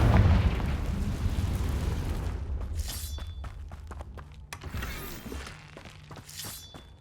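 A Confringo spell explosion in Hogwarts Legacy bursts with a heavy low boom that decays over a couple of seconds, followed by sharp crackling debris impacts and scattered clatter.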